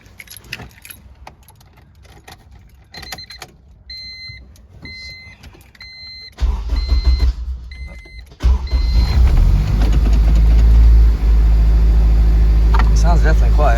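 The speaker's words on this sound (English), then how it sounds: "do our first start with the exhaust now, and check the leaks and everything" A car with a K20 engine swap and new exhaust fires up for the first time: keys jingle and faint beeps come first, then the engine catches and settles into a steady loud idle.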